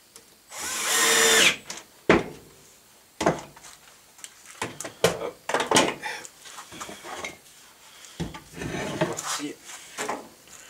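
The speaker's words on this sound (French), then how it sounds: "je vais pas pouvoir passer la perceuse correctement" A power drill whirs in a loud high-pitched burst while driving a screw into a repurposed car radiator, followed by scattered clanks, scrapes and knocks of handling metal and wood.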